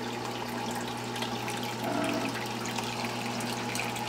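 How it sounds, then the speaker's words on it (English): Water runs continuously through a do-it-yourself reef tank overflow with an air pipe, a steady close trickling and gurgling flow over a low constant hum, with no talk. "that's the very common do-it-yourself overflow that you see online"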